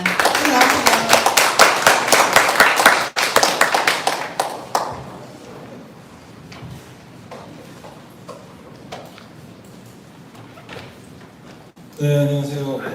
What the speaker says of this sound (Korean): 우리 김호연 교수님을 큰 박수로 맞아주시기 바랍니다